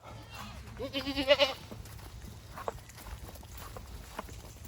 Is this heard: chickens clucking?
no